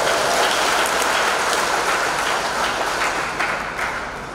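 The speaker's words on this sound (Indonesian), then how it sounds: "Tepuk tangan untuk kita semua." A large seated audience at a provincial revenue agency seminar in East Java claps together, a thick continuous patter of hands that slowly fades toward the end, heard alone without talk.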